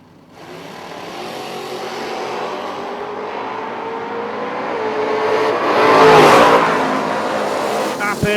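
Drag racing launch of a 1970 Nova and a Mustang at a Lights Out event, engines roaring and building to a loud burst with tire noise, heard from trackside under an announcer's voice.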